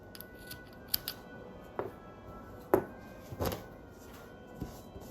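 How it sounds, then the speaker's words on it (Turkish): Scissors snip through the yarn of a small knitted Teacher's Day gift, a few separate crisp cuts spaced irregularly across a quiet room. "Şimdi ben kesiyorum orayı."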